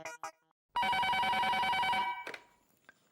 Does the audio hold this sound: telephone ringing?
yes